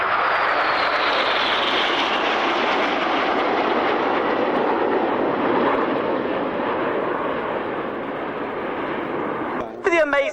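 Jet aircraft at an airshow fly a formation loop, a loud, sustained, broad roar that holds steady and slowly shifts in pitch, with a brief clatter at the end.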